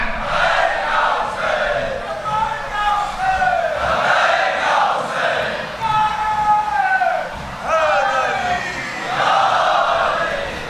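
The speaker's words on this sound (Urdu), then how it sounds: "جو لبیک یا حسین کے نعرے لگا رہے ہیں" A large religious gathering chants the slogan Labbaik ya Husain in loud, rhythmic unison, the massed voices rising and falling in repeated waves that fill the space.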